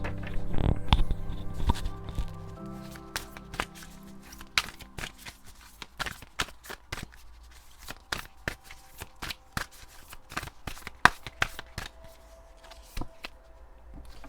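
Oracle cards being shuffled by hand, a long run of quick papery riffles and flicks, close and fairly soft, with a denser burst at the start and no talk.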